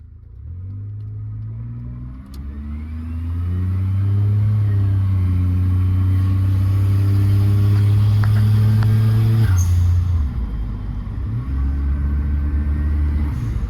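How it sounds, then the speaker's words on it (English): Suzuki Wagon R fitted with a straight-pipe Apexi exhaust and no muffler or resonator, heard from inside the cabin: a loud, droning engine rumble that rises as the car accelerates, holds steady, then briefly dips and picks up again. "We're taking the car for around the block with no muffler, complete straight pipe."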